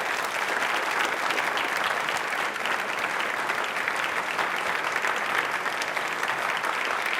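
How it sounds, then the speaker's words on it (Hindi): Quiz participants on a televised Independence Day special give loud, sustained applause, a dense, even wash of many hands clapping for the whole stretch with no voice over it. "अपने लिए एक बार तालियां बहुत जोर वाली बजा दीजिए।"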